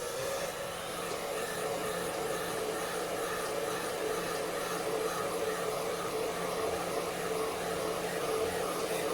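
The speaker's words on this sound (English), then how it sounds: "Same again, straight back on the hairdryer." Hairdryer blowing steadily to dry liquid mask airbrushed onto an RC car shell, a continuous close whooshing roar held at even loudness throughout.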